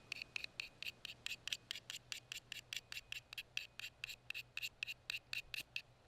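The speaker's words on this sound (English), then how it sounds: "scrape off this coating right here onto our tinder right here" A knife's serrated spine rasps rapidly across a ferro rod, scraping its coating onto tinder in a steady train of about two dozen short, bright, close scrapes over faint background hum.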